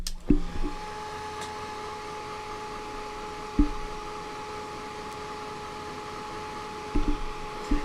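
A hair dryer blows steadily to dry acrylic paint on a painting of summer daisies, holding a constant whirring hum with a faint tonal whine. A few soft knocks and clicks come through near the start, middle and end.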